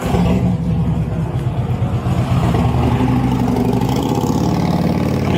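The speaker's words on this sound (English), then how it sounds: "I had to talk loud because the motorcycle" A motorcycle engine runs close by outside a pawn shop, a loud, steady low rumble that holds with slight revving throughout and no voices over it.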